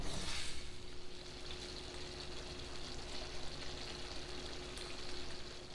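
Swedish meatballs frying in a pan over medium-low heat, a soft continuous sizzle and gentle crackle, faint and steady throughout with no talk.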